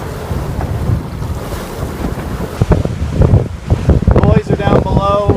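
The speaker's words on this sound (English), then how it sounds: "Hang on, a little bit of a wave." Sea waves slap against a boat running south on open water, with heavy wind buffeting and irregular splashes and thumps that grow rougher toward the end.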